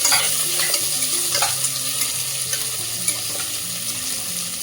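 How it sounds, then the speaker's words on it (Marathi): Finely chopped onion is sautéed with steamed peas in a hot pan for soya rice, giving a steady, close sizzle with scraping stirring sounds throughout and no talk. "आता त्याच्यामध्ये आपण हा बारीक चिरलेला कांदा आहे तो टाकून घेऊया. व्यवस्थित परतून घ्यायचं."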